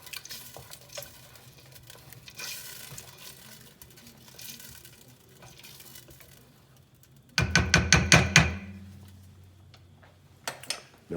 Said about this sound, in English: Gonna give it a good stir.